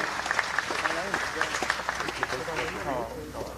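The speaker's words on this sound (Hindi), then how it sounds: "जोरदार तालियों से उनका अभिवादन, स्वागत कीजिए।" A crowd at a public stage event in Madhya Pradesh gives a speaker dense, loud, steady applause, with a few voices blending into the clapping throughout.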